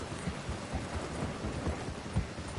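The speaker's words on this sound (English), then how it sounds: "it's a rainy day here on the game." Steady heavy rain with rolling thunder in the open-world game Red Dead Redemption 2, a dense continuous wash with low rumbles swelling throughout and no voices.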